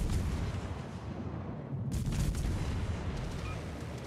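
Naval gunfire rumbles in the World of Warships game, with the Kotovsky, a Russian light cruiser, in the battle. It builds into a dense, continuous roar of booming artillery with one sharper burst midway and no speech.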